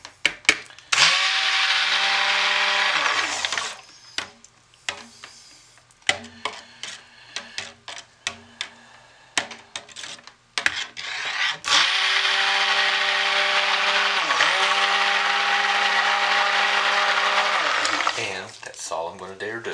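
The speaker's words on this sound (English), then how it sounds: "I can stick blend just before I pour if I have to" A stick blender mixes soap batter in two long bursts, each a steady, high motor whine, with short clicks and handling knocks between the runs.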